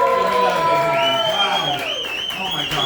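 A comedy club crowd at the Grisly Pear cheers and whoops loudly, with scattered clapping underneath, the sustained hollering gradually easing over about three seconds.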